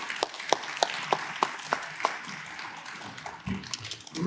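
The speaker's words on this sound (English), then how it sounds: "please join me in a round of applause for this group" Audience applause at a public presentation on opioid settlement work: a room-wide wash of clapping with a few sharp, evenly spaced claps standing out near the start, thinning toward the end.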